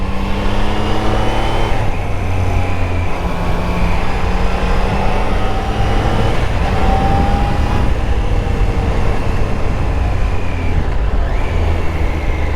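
A 2024 Triumph Daytona 660 motorcycle rides along narrow country roads, its engine a steady, loud, continuous drone with shifting tonal harmonics as it rises and eases through revs, heard close with no talking.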